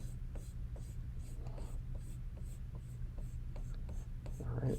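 Pencil sketching hair on paper for a portrait drawing, a quiet run of short scratchy strokes repeating in a loose rhythm, close and soft over a low steady hum, with no talking.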